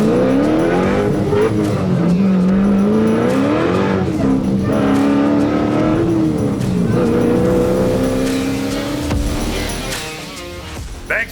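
A custom widebody Dodge Challenger being driven hard, its loud engine revving and surging through rising and falling pitches with tire squeal, a steady roar that eases slightly near the end.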